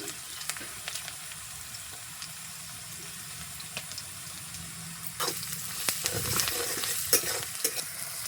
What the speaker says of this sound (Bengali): পেঁয়াজ আমার লাল ভাজা হয়ে গেছে